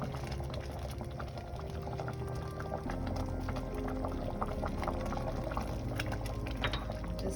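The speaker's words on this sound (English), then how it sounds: "So now you can see we're going to add the brown sugar." Brown sugar tipped into a pot of Sri Lankan payasam as it cooks, a steady pouring and bubbling texture that stays fairly even throughout, with no talk.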